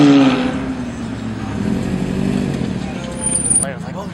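A wide-body Nissan 350Z engine rumbles as the car pulls up at a car meet, loud and close at first and then settling into a steady drone under excited talk and shouting from the crowd.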